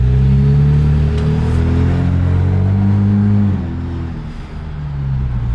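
A 2020 Jeep Wrangler with an AFE axle-back exhaust cruises along with windows down, giving a steady, moderately loud engine drone that shifts pitch once and eases off toward the end.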